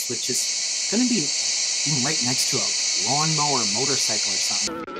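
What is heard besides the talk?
cicadas chorus rumbling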